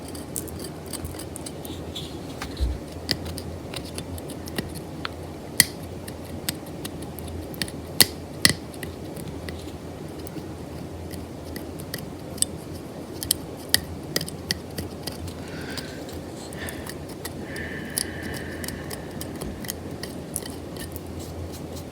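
A knife and a dental instrument carving and scraping wood on a locked-rings carving, heard as soft close scratching with scattered small sharp ticks and clicks throughout.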